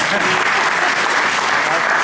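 Audience applause welcoming an older poet at a Holi poetry event, a dense, loud, steady clapping that fills the whole stretch.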